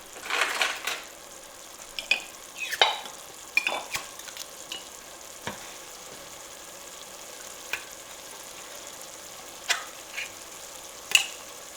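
A pot of leftover turkey dish sizzles softly at close range, with scattered sharp clinks and scrapes of a utensil against the pot over the quiet cooking, no voices.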